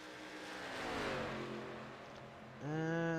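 ARCA stock car engines at Atlanta in a sim racing game, with a revving engine whose pitch rises and falls as it drones past, then a sharp louder rev near the end.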